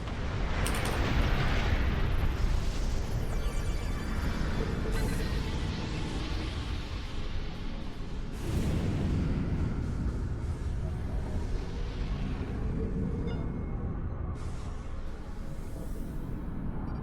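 Heavy continuous rumbling blasts from torpedoes striking a starship in Star Trek Online, loud and sustained with repeated booming bursts and roaring impacts throughout, no talk over them.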